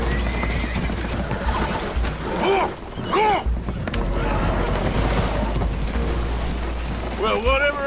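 Spooked horses neighing in the Red Dead Redemption 2 video game aboard a boat taking on water, several loud whinnies over rushing water and wind, with a voice talking.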